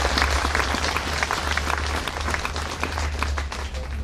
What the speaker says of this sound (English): please give a warm round of applause to Cory Doctorow